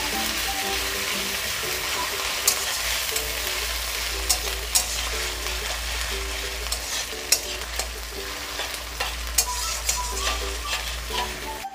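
Onion paste fries in a pan for an egg curry while a spoon stirs it, giving a steady sizzle with regular scraping strokes repeating about every second, close and alone.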